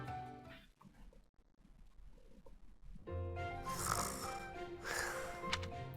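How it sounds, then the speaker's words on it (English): A character in Fire Emblem: Three Houses snoring, slow nasal snores with a pause between them, followed by a louder, fuller snore with a snorting rasp. "Listen to him snoring too. Snoring up a storm."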